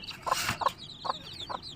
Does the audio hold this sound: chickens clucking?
yes